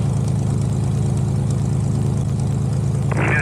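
A light four-seat aircraft's propeller engine at high power while accelerating lightly loaded down a runway, a loud steady droning hum with a constant low throb, heard close with no talk.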